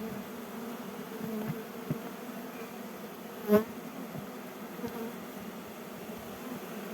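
A steady, low drone of many honey bees buzzing close around a hive hums throughout, with a brief soft knock midway and no voices.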